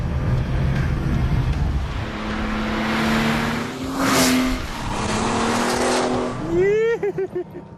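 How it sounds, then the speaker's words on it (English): A vintage Porsche 911 Turbo pulling hard under acceleration, its engine note climbing steadily for several seconds before a sharp rising whine near the end, loud and close, with speech heard over the engine. "You step on the gas and for a few seconds nothing happens, then suddenly it feels like you've been rear-ended."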